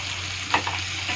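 Tomatoes frying in a pan for a fish curry, a steady close sizzle with a couple of brief scraping stirs of the spatula and no talking.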